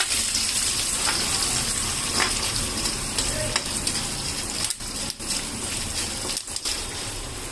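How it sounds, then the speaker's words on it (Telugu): Curry leaves crackling in hot oil as a low-heat tempering with soaked chana dal for a coriander pickle: dense steady sizzle up close with a few brief dips and clatters of stirring, no voices. "చూడండి, సౌండ్ వస్తుంది కరివేపాకు"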